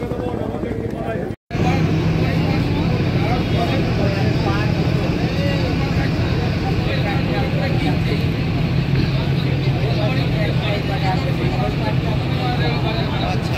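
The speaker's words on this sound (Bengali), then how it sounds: "বন্ধুরা এই মুহূর্তে আমাদের লঞ্চ এখন ছেড়ে দিয়েছে" A river launch pulling away on the river at Mayapur, with a loud steady engine drone and water rush running throughout, a brief cut near the start, and a chatter of passengers under it.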